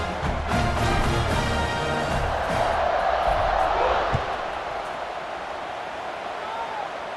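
Stadium crowd in an American football video game roars at kickoff, a loud broad wash of cheering that swells and then eases off into a lower sustained hum.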